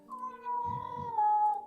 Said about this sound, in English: That is a kitty. Oh, that is definitely a